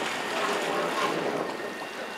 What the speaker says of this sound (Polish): Silnik chodzi po malutku.